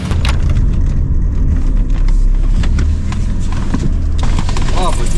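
A car drives at a veterans' Christmas slalom event, its engine a loud, steady drone running throughout with a brief rising whine near the end; people talk in the background.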